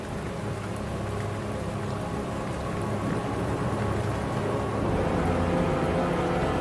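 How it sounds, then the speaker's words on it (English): Steady, dense rain falls in the horror video game Lust for Darkness, a continuous close hiss and patter that swells slightly toward the end, with no talking. "Close your windows when it's raining, dude. You're gonna get rain inside."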